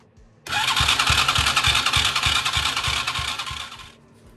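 A 50cc Chinese ATV engine, choked, catches and runs for about three and a half seconds with a rapid, buzzing putter, loud and close, then cuts out.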